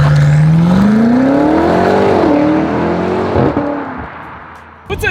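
A 2020 BMW M8 accelerating hard, its engine note climbing steadily in pitch for about two seconds before a gear change, loud and close inside the cabin, then easing off with a brief clatter at the end.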